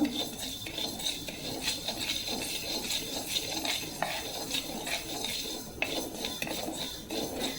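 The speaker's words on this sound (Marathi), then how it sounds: "हालीम आपल्याला मंद गॅसवर अगदी भाजून घ्यायचा आहे" A utensil scrapes and stirs dry garden cress seeds in a metal wok on low heat, giving a steady gritty rasping with occasional sharp clinks, close and continuous.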